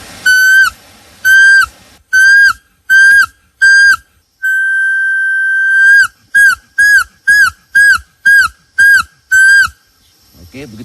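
Bamboo whistle blown as a jungle signal imitating a trapped animal: a series of sharp, shrill squealing bursts, then one long held tone and a faster run of short repeated squeaks, loud and close.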